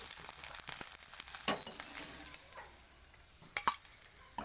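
Eggs fry in mustard oil in a pan, a soft continuous sizzle punctuated by sharp metallic taps and scrapes of a utensil, with a couple of louder clinks toward the end.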